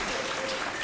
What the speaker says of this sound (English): I'd like to ask you to hold your applause